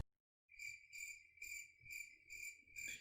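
Recorded cricket chirps play back through desktop speakers in a room: five steady, evenly spaced pulses of shrill trilling, moderately loud and alone, with a faint low hum underneath.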